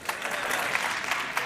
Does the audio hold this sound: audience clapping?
yes